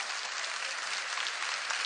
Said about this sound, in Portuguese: Você vó, pode aplaudir, porque é verdade.